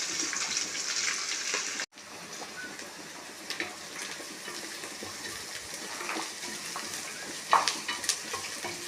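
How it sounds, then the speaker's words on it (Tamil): Sliced onions and green chillies sauté in oil for mutton biryani, giving a steady broadband sizzle. A sharp break comes near two seconds, then the frying carries on with scattered stirring scrapes and a louder clatter near the end. "2 பெரிய வெங்காயத்தை நீள வாக்கில் அரிஞ்சு அதை பொன்னிறமாக வதக்கவும்"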